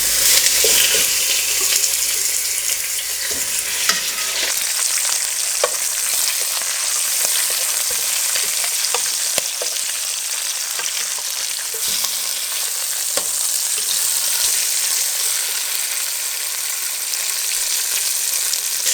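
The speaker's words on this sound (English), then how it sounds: "In a large stewing pan with an abundant amount of olive oil, extra virgin, I'm gonna brown these rabbit legs." Rabbit legs brown in an abundant pool of extra virgin olive oil in a large stewing pan, giving a steady, loud, even sizzle and crackle that runs throughout without any voices.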